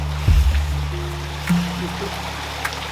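A person bathing outdoors in water during a heatwave splashes close by, with a loud burst early on and a smaller splash midway over a steady watery background, and a few voices nearby.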